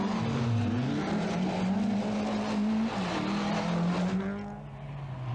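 A Ford Sierra Cosworth rally car drives hard, its engine note rising and falling through gear changes, loud and sustained, with tyre noise on the stage surface.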